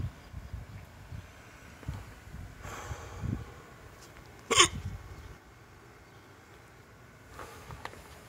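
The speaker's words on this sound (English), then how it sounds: "I'd say your main obstacle right now is the damn hiccups" A person with hiccups during an eating challenge lets out a few sharp isolated hiccups, one loud and abrupt among softer breaths and faint background rustle.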